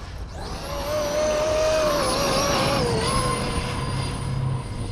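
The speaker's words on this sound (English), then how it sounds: "this thing is just ripping across this field." A Traxxas XRT RC truck rips across an open field, its electric motor whining steadily and rising and falling in pitch as it accelerates and turns, loud and close for the whole stretch.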